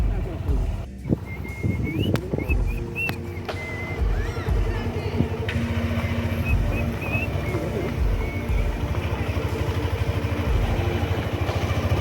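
A motorcycle engine hums and putters steadily in the background while people talk nearby.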